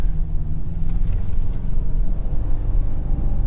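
A 2024 Toyota Tacoma TRD Off-Road spins its wheels in sand, giving a steady low engine rumble with churning tire noise, heard close and continuous with no talking.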